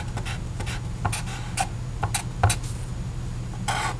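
A pen or marker scratches out a math problem by hand in short strokes and taps, steady and close, over a constant low electrical hum with no talk.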